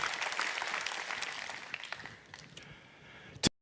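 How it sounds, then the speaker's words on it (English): Audience applause at a Xiaomi 13T series launch event, a dense wash of clapping that thins out and fades, ending with a sudden loud thump. "If everybody could please join me in giving him a round of applause."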